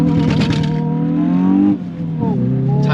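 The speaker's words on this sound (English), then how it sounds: "We're in launch now, we're going to let it go." A Hyundai i20 N holds high revs on launch control, then the engine note drops and climbs again as the car pulls away and accelerates on a straight road, loud and close from inside.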